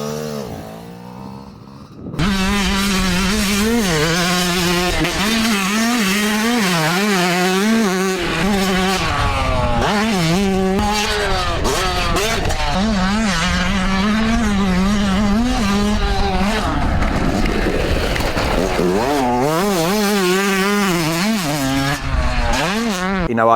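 A 2022 Yamaha YZ125 two-stroke motorcycle with a GYT-R performance kit screams around a dirt track, its engine loud and close, rising and falling in steady waves through gear changes for most of the run after a short quiet start.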